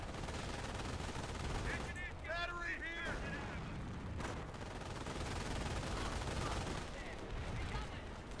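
Sustained battlefield gunfire from the video game Company of Heroes rattles continuously with distant-sounding bursts and blasts, while a brief voice and some chirping cut through in the middle.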